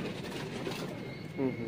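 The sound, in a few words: Sialkoti Sheikhan pigeon cooing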